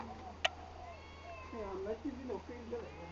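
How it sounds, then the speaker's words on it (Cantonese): Several short cat meows rise and fall over a steady low hum, close and fairly clear, with a sharp click near the start; someone speaks in the background. "做乜隻貓走咗出嚟啊？"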